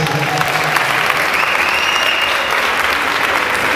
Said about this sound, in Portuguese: Vamos aplaudir de novo, Anaquias.